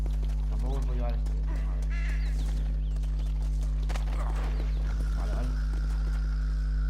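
Horse hooves clip-clop in Red Dead Redemption, steady and moderately close, partly buried under game music, ambient effects and people talking.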